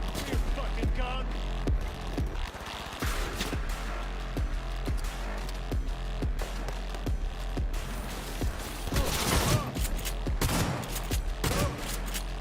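Shotgun blasts in a first-person shooter against cybernetic enemies, a steady run of sharp repeated shots at moderate level under a dense wash of game noise, with a voice briefly heard.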